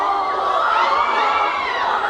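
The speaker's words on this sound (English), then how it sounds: "As soon as they appear, the screams immediately start." A large audience of fans screams as the K-pop group Enhypen appears, a loud, dense, high-pitched wall of shrieking and cheering that holds steady throughout.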